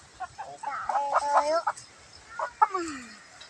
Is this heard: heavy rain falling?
no